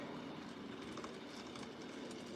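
A small N scale model train runs steadily nearby, a low continuous rumble with faint clicking wheels, no talking.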